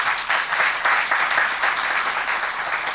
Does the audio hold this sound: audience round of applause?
yes